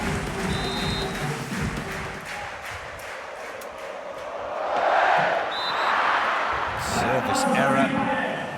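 A beach volleyball crowd at the world championships murmurs steadily, then swells into a louder cheer midway, while a commentator talks over it.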